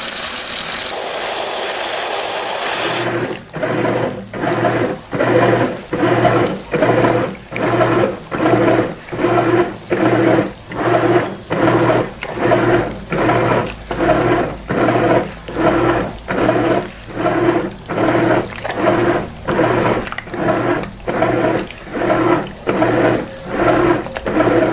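Brastemp Eggo mini washing machine, a 1 kg compact model, filling with water for its first rinse with towels inside: a steady hiss of running water overlaid by a regular, pulsing churn that repeats roughly every second, loud and close.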